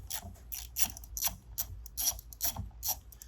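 Fasteners are loosened on a Sterlitech Sepa holder with a ratcheting tool: quick, close metallic clicks come in a steady rhythm of short bursts, with no talking.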